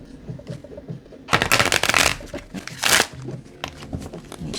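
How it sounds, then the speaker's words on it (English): Tarot cards riffle-shuffled close to the microphone, with soft handling and sliding at first, then a series of loud crisp riffles and bridge-like flutters, followed by quieter card shuffling. "Let me shuffle all of the cards."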